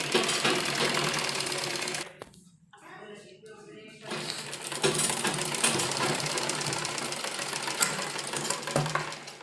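A sewing machine stitches a neck strip onto a salwar suit made from a saree, running in a fast continuous whir with a brief pause, close and loud, while someone talks over it.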